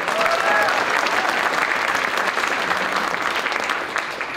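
A school winter concert audience gives steady, dense applause, loud and sustained throughout with a slight tapering at the end.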